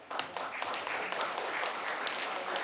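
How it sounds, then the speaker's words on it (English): Audience applause at a grade 4 speaking contest final, a steady, fairly faint wash of clapping from a crowd lasting throughout without a clear break. "Give him another round of applause."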